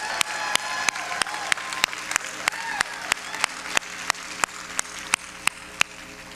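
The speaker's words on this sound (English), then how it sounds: "clap your hands, all you people" Audience clapping along at a church service on Psalm 47, a steady rhythmic beat of sharp claps roughly every third of a second over a diffuse crowd wash.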